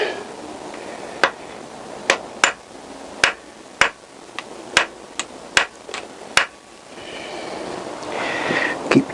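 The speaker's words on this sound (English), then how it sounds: "Just using a small hammer and a drift." A small hammer strikes a drift in sharp, metallic taps, about a dozen spaced irregularly, while cam timing is set on a Honda CBR1000F motorcycle engine in a quiet workshop.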